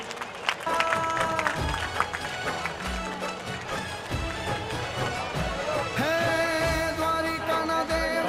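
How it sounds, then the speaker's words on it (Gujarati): Crowd applause at a Shreemad Bhagavat katha event, a busy stream of clapping mixed with music and voices, running for several seconds at moderate loudness. "તાળીઓથી વધાવી લઈએ"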